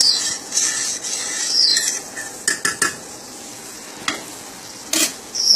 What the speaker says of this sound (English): keep that boil going for the next 5 minutes